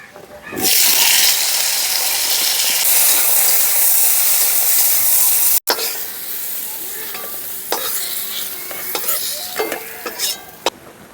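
Lentil dumplings (bori) fry in hot oil in a pan with a loud, steady sizzle, then settle into a quieter crackling hiss broken by occasional stirring scrapes.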